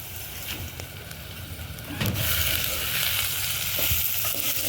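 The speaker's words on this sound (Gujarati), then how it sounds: "હવે આપણે મીઠો લીમડો નાખી દેવાનો." Curry leaves drop into hot oil for a sev and onion curry, and a loud close sizzle bursts up partway through, then stays as a constant hissing crackle.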